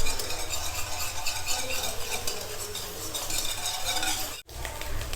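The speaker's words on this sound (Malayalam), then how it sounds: "ഇനി ഇതിലേക്ക് നന്നായിട്ട് അടിച്ചു വച്ചിരിക്കുന്ന മുട്ട ചേർത്ത് കൊടുക്കാം. നന്നായി തന്നെ ഒന്ന് ചിക്കി എടുക്കണം." Beaten egg being scrambled in coconut oil in a pan for kothu chappathi, with a steady close sizzle and frying hiss under repeated scraping and stirring of a spatula against the metal pan.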